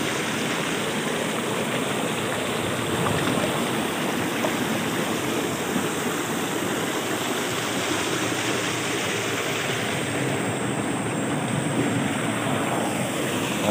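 Water from a solar-powered tubewell at a fish farm pours out in a steady, dense splashing rush, close and continuous without pause, like a small waterfall, with no talking over it.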